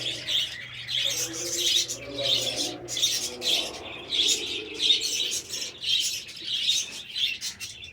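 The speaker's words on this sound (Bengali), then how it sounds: "খুব আওয়াজ হচ্ছে পাখি।" Budgies in an outdoor cage colony chirp in a rapid, continuous chatter of high calls, moderately loud, with a faint low hum beneath.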